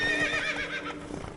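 Roach the horse from The Witcher 3: Blood and Wine lets out a short, close whinny with faint hoofbeats underneath.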